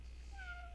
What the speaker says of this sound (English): Oh, it even makes tiny little meows.